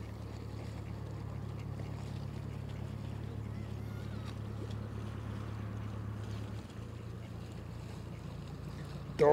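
A river cruise boat passes on a holiday river, its steady low engine drone running evenly throughout, moderately close, and ending with a brief sharp sound.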